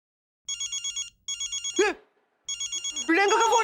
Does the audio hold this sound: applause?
no